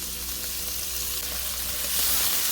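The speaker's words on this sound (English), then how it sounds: "We're trying to brown the meat, but in this case we're turning it white because it's pork." Pork pieces frying in a pan for Thai pork fried rice: a steady, loud, close sizzle and crackle that runs throughout and swells slightly near the end, with no talking.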